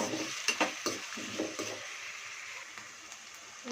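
Onions are stirred and fried in a pan for a Godavari-style fish curry. Quick scraping strokes and clinks come in a cluster early on, then a softer sizzle continues alone and fairly quietly.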